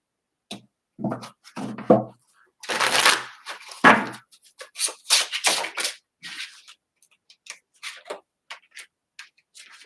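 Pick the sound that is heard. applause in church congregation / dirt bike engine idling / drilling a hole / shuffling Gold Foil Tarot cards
shuffling Gold Foil Tarot cards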